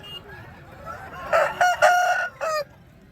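A rooster crows once nearby at a poultry market in Nallapadu, a short series of loud, strained bursts over quiet background.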